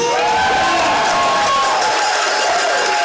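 Crowd at a Raiders versus Kodiaks game cheering and clapping for the visiting Vancouver Island Raiders, a dense roar of applause and whoops over a wavering public-address tone.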